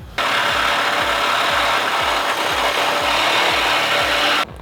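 A power tool cuts and trims a car fender on a Porsche-Subaru build, giving a loud, continuous rasping grind with a steady pulsing undertone that runs for about four seconds and then stops abruptly.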